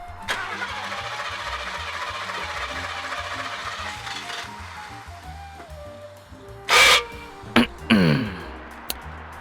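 A 1977 Mercedes 450SL (R107) engine with 330,000 miles cranks and catches, then idles steadily for several seconds before a few sharp mechanical bursts and a brief whine near the end.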